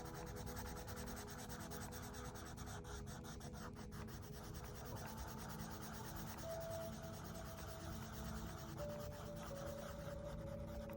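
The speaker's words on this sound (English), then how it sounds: "now I'm gonna go in with my blender pencil. Let's blend all this and make it a little bit smoother" A blender pencil rubs over colored pencil on paper in a soft, continuous scratchy swishing of quick back-and-forth strokes, faint and close, with no talking.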